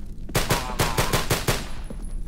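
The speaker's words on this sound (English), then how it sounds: "I shot a bullet." Rapid gunfire from the zombie game No More Room in Hell, about seven loud, evenly spaced shots in quick succession that ring out over a brief lull before and after.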